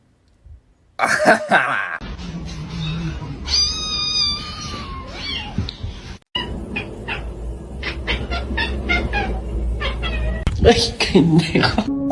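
Cats meow in several distinct calls, some drawn out like a caterwaul, mixed with coughing or throat-clearing sounds and a human voice nearby.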